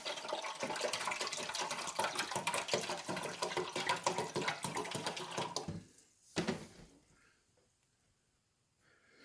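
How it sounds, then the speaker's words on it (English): Vinegar poured into a Keurig Duo coffee maker's water reservoir, a steady close splashing and trickling stream that tapers off after several seconds, followed by a short clunk and quiet. "We filled the reservoir up with vinegar and put it back in the unit."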